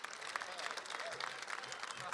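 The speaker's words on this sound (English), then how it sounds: "Give my wife a round of applause." A crowd at a stadium ribbon-cutting ceremony applauds, a faint, distant wash of clapping and cheering that runs continuously through the short moment.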